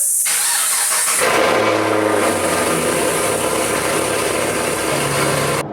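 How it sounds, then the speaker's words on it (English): A Chevrolet Camaro cold start: the starter cranks briefly, the engine catches with a loud burst, then settles into a steady, rumbling high idle, close by, with no talking. "show you guys a little cold start"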